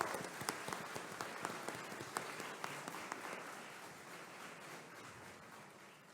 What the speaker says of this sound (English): Let's give them a big round of applause for what they do for our county.